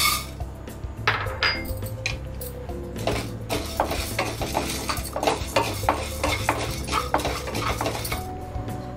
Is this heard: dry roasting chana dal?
yes